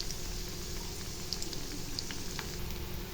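Potatoes and eggs fry in a pan with a steady, soft sizzle and faint crackling pops, quiet and continuous with no talking.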